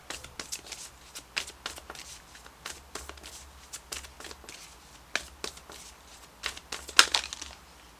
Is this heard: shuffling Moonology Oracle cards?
yes